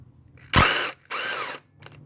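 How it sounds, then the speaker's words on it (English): Two loud bursts from an impact wrench spinning out a bolt on a Hemi engine, each about half a second long with a short pause between, close up in a quiet garage. "So I'm gonna go ahead and use my impact and get that guy out of there."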